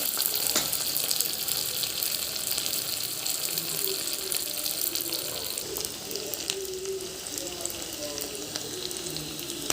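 Mustard seeds, cumin, urad dal and chana dal fry in hot oil, giving a continuous crackling sizzle with scattered pops that runs steadily and close, while someone talks quietly over it.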